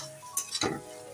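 Okra fried with fennel seeds is stirred in a pan after a drizzle of oil, giving a soft, close sizzle broken by a few brief scraping strokes over about a second.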